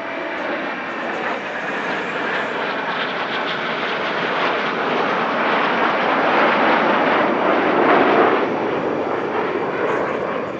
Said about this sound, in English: Six aircraft perform a stunning roll under brake.